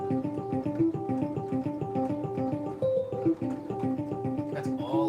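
Piano playing the part from the recorded version of a song, a steady repeating figure of evenly spaced chords and notes held at moderate level for the whole stretch, with no voice over it.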